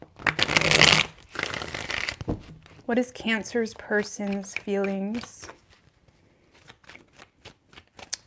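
A reading-card deck is riffled in crisp bursts at the start, then a voice talks briefly before quieter card flicks and taps resume near the end.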